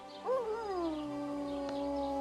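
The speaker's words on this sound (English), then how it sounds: "That's not my dog, is it?" A dog in the medieval video game Kingdom Come: Deliverance 2 lets out a single long, mournful howl that rises, wavers, then holds a steady falling tone, heard alone and moderately faint.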